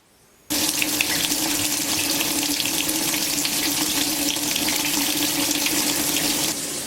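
A washing machine fills with water on an empty test run, a loud steady rush of water pouring in that starts abruptly and continues without a break, with no talking.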